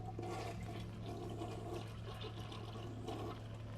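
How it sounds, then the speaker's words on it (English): A toilet flushes after cleaning, with a steady rush of swirling water that runs throughout. The flush is continuous and moderately close, with gurgling surges and no talking. "And when you're done, just go ahead and flush it."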